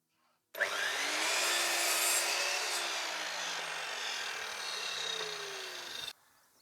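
A mitre saw set to 45 degrees cuts through a wooden brace for a bird table, a single continuous loud whining cut of about five seconds that starts and stops abruptly.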